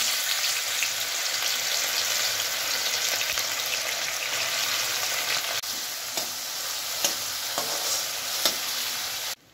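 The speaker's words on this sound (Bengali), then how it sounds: "তেলের মধ্যেই এবারে আমি চিংড়ি মাছগুলো ভেজে নেব।" Prawns fry in hot oil with a dense, steady sizzle throughout and occasional soft clicks from stirring, close and fairly loud.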